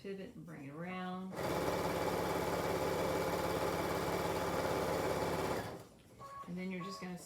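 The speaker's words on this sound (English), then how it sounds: "you're just going to sew all the way around to close it up" A sewing machine stitches around the edge of a bird bun for animal rescues, running in one steady, loud motorized whir for about four seconds, with a person talking before and after it.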